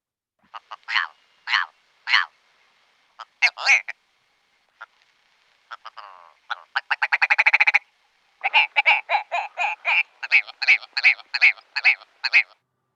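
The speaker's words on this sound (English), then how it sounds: "Some bird song, you really wonder just how it ever got to this" An odd bird song made of croaking notes, delivered in short bursts: a few separate croaks, then a rapid accelerating rattle, then a long run of evenly spaced croaks, close and clear against silence.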